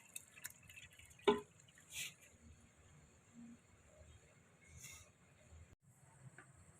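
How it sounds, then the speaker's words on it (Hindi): Cooked rice for restaurant-style chicken fried rice drains in a sieve, giving sparse, faint drips and small liquid taps scattered over a quiet background, heard close with no talk. "चावल हमने छन्नी में छान लेने।"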